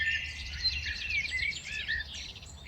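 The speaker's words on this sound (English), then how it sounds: "So the birds, they have returned again" Several birds sing and chirp in a New Jersey park grove, bright overlapping calls and trills repeating steadily at mid distance over a faint low rumble of background noise.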